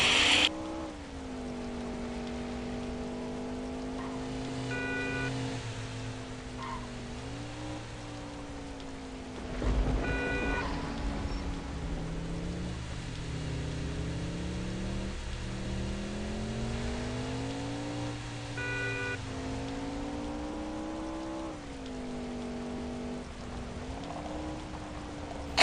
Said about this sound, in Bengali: রাস্তায় বৃষ্টি হচ্ছে, কি প্রচণ্ড ভালো লাগছে